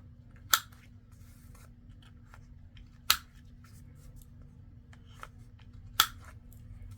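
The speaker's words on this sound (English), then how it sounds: "I'm just going to go ahead and trim all 4 corners." Three sharp, separate snips of scissors trimming paper corners, spaced a few seconds apart against a quiet, low background hum.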